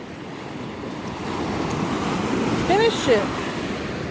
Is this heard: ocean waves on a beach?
yes